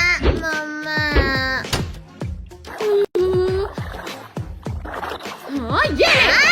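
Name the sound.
splashing of cold bathing water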